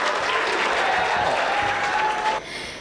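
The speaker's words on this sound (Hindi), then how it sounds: "जोरदार तालियां बजा करके" Enthusiastic audience applause welcoming a poet onto the stage at a Hindi poetry recital, a dense, steady clapping that fills the room for over two seconds and then drops away abruptly.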